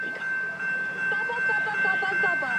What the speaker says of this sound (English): Got another freight coming in.